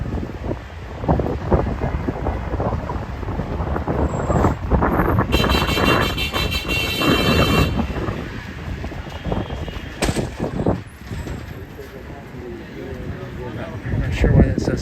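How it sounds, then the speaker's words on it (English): Wind rumbles steadily against the microphone at an outdoor protest in New York City while a person talks; a brief high electronic whine cuts in partway through. "Very windy here."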